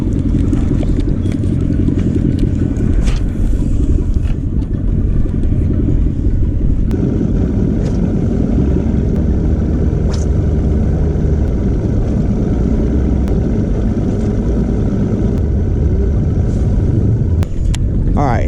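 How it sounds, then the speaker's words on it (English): A fishing boat's outboard motor idles and warms up on Folsom Lake, a loud continuous low rumble and clatter close by, with a voice talking over it now and then. "I think the motor's done and warmed up, so let's go."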